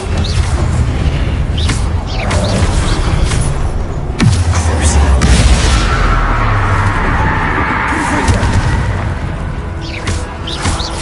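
Fire spell cast in the Hogwarts Legacy video game: a roaring, whooshing blast with a deep boom near the four-second mark, followed by sustained crackling flame and dense game effects that run loud for the whole stretch.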